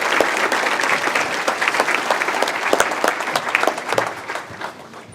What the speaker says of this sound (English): Can we please give a round of applause to our second group of nominees?